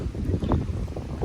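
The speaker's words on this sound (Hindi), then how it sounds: "फ़िलहाल अभी ज़ोर ज़ोर से हवा चल रहा है और ठंडी ठंडी हवा।" Strong, cold evening wind blowing outdoors at a calm waterside spot, a steady rushing buffet across the microphone with low rumbling gusts, no voices.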